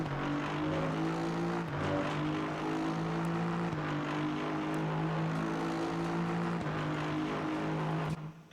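An Aston Martin race car engine in Assetto Corsa Competizione drones steadily at high revs from the cockpit, with small pitch shifts at several gear changes and a brief cut at the end.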